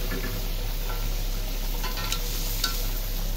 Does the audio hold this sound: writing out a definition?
no